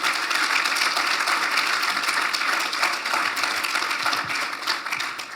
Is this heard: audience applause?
yes